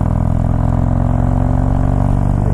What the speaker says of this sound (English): love the sound of the street cannons